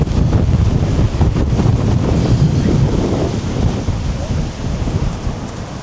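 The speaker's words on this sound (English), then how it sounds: "I'm literally having to hold on to my hat. It's blowing so much." Strong wind from Storm Therese in Tenerife roars and buffets the microphone in loud, uneven gusts, a heavy low rumble that gradually eases toward the end.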